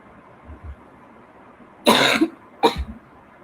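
A person coughs twice, close and sharp, with a longer burst followed by a shorter one, over a quiet room background with a few soft low thumps beforehand.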